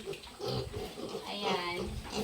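Piglets grunting and oinking in a backyard farm pen, a run of close, soft snorts and grunts with a person talking over them.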